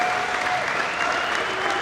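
Applause and cheering from a squash crowd of about 1,400 at the British Open, filling the hall with a steady, dense wash of clapping throughout.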